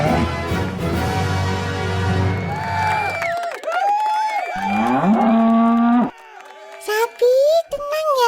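Several long, loud cow moos close by, drawn-out and wavering, one after another with brief gaps, and a voice mixed in.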